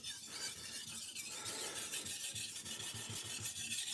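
A kitchen knife being sharpened, with a close, repeated rasping rub of steel across a stone in quick, even strokes, heard alone.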